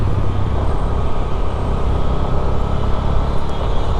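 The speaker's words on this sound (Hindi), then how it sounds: "बड़ी बड़ी गाड़ियाँ ऐसे उल्टी सीधी घूम रही है रोड पे" Road traffic on an Indian road with large vehicles passing, heard as a dense continuous rumble and roar of engines and tyres, steady and fairly loud.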